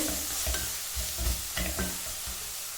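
Masala sautés in oil for channa pulao, a low steady sizzle broken by repeated rhythmic scraping strokes of a spoon against the pan, with no talking.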